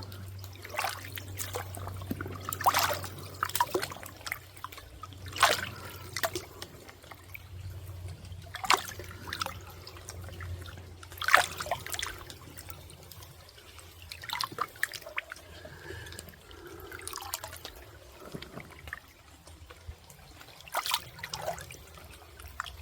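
Water trickles and drips in irregular bursts as a container is filled at a wet woodland camp, close and fairly quiet, with a low hum underneath and no talking.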